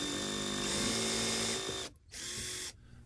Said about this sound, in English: we're going to drive some of those screws in, see how far they go,